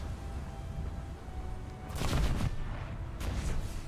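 Heavy naval guns fire in a warship battle game, with two rumbling blasts and explosions about a second apart over a steady low background drone.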